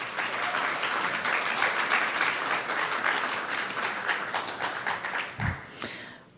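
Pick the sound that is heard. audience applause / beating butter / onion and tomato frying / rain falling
audience applause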